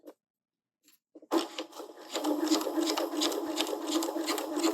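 Sewing machine stitching fabric for a caterpillar toy, starting with a few soft clicks before breaking into a steady, fast, close mechanical whir that runs on continuously.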